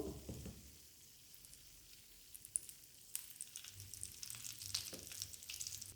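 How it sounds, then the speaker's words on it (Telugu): Cashews frying in ghee, a faint continuous sizzle with light crackles and occasional soft stirring clicks, close and without talk. "మనం ఈ నెయ్యిలోని వేయించుకుందాం. జీడిపప్పు అనేది ఇలా ఫ్రై అయితే సరిపోతుంది."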